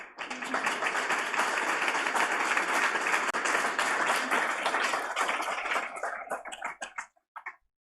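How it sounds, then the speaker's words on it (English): Warm applause fills an awards-event hall, a loud, sustained wash of many hands clapping that fades out unevenly toward the end, with a few isolated claps. "Please give them all a warm round of applause."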